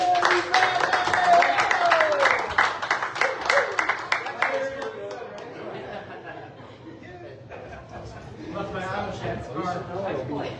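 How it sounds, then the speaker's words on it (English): Coffeehouse audience clapping and laughing after a performance at Highwheeler Coffee, scattered applause mixed with chuckles and chatter, tapering into talk and then picking up again with voices near the end. "Thanks for the applause, everybody."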